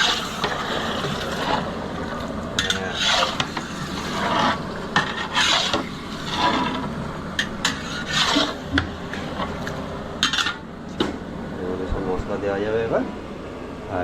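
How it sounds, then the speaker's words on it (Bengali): A spatula scrapes and stirs chicken kosha in a pan in repeated rasping strokes, heard under ongoing conversation. "এই চিকেন কষা চিকেনটা সবেমাত্র দিলাম এটা নাড়তে হবে"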